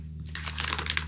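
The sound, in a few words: sticker foil sheet being handled, crinkling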